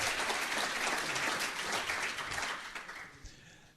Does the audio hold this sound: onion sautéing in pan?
no